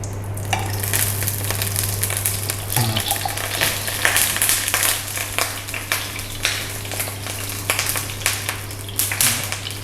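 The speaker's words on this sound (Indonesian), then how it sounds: "Kita goreng dulu dagingnya, bukan bombaynya, tapi dagingnya dulu nih." Marinated beef yakiniku slices frying in hot oil in a pan, a loud continuous sizzle with occasional stirring scrapes and crackles, close and steady throughout with no talking.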